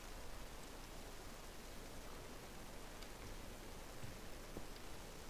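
Steady rain hisses without a break in a Minecraft world, a dense, even wash of noise that stays faint and unchanging.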